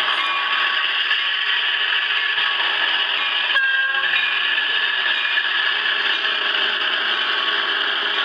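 A train passes through Glendale, Queens, in the early hours, its horn blaring loud and sustained from start to finish, with a brief rattle partway through and no voices.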